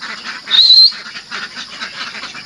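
Ducks in a backyard farm pen give loud, close, nasal quacks, one prominent call followed by a rapid chorus of overlapping quacks and chatter from the flock.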